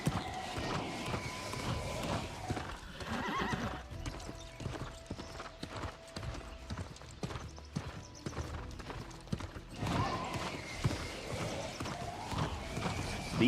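A horse gallops steadily in the New World game during a checkpoint race, its hooves clip-clopping in a quick continuous rhythm, close and clear over faint ambient background.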